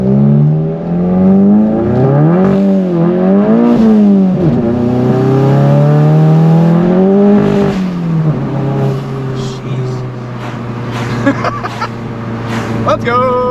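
Volkswagen GTI with an IS38 turbo doing rolling burnouts in the rain, engine revving hard and rising and falling in pitch, loud and close throughout, with voices shouting over it.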